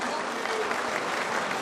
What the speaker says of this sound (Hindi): तो एक बार जोरदार तालियां होना चाहिए हमारे इस मंदिर के लिए